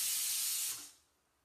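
A pressure cooker releases steam with a bright, sustained hiss at moderate level, fading away near the end into quiet kitchen background.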